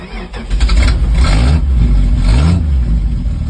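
A 1978 Dodge D100 truck engine cranks and catches, then revs up and settles into a loud, rough running rumble with a couple of throttle swells, close by and without talk.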